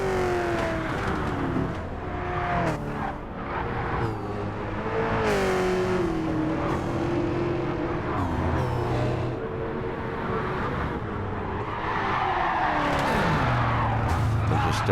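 A V8 Supercar engine in Gran Turismo 7 roars continuously through an endurance race, its pitch dropping sharply on downshifts with brief tire squeal, while a voice talks over the action throughout.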